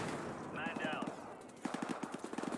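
Call of Duty: Modern Warfare Remastered gameplay with rapid automatic gunfire in bursts, crisp repeated shots that pause briefly and then resume at a quick, even rhythm, heard at moderate level under continuous game ambience.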